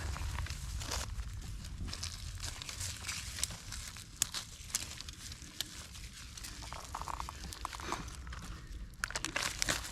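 Close, steady crinkling and crackling of plastic wrappers being handled, with irregular crunches and rustles throughout, no voices.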